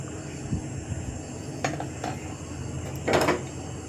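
A lid goes onto a pot of cooking basmati rice with a few light clinks, ending in a louder metallic clatter, while a low steady background hum runs beneath.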